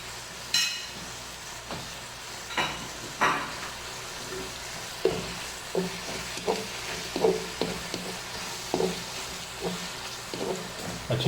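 Masala with tamarind paste for chana pulao, stirred and fried in a pan: a low steady sizzle with a run of regular scraping strokes from the spoon, close up and with no talk.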